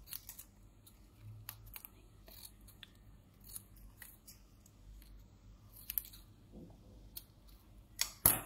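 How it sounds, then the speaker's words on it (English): Scissors snip through excess paper on a paper craft, several quiet close-up cuts and clicks spread unevenly over the span, with a louder snip at the very end. "Take your scissors and cut off the excess."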